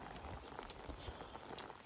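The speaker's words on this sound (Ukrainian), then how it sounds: "Йде дощ." Rain falling on a wooden bridge walkway at a fortress gate in Khotyn, a faint, dense patter of drops with scattered soft footfall-like thumps, steady throughout.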